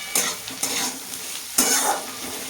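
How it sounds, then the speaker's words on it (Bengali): Beans, carrots and cauliflower being stirred and fried in a kadai, a constant close sizzle punctuated by three scraping strokes of a spatula against the pan, with no speech. "বিনসগুলো দিয়ে একটু ভালো করে নেড়ে চেড়ে নেবো"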